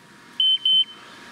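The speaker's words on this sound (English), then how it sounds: "so when we did the net wrap cycle, when we wrapped it, so you can hear that buzzer" A John Deere 560M baler gives two short, loud electronic buzzer beeps at the end of its net wrap cycle, each steady and about a fifth of a second long, over a quiet background.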